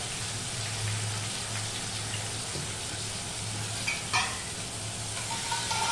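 Onion paste with salt, turmeric and chili powder sizzles in a hot pan, a steady frying hiss throughout with a brief clatter of stirring near the end.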